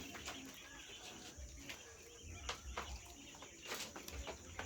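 Caged quail birds run about and feed, producing faint scattered chirps and soft pecking clicks at a distance.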